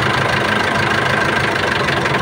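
A diesel engine runs close by with a rough, uneven, knocking idle that stutters as it misfires, steady and loud with no voices.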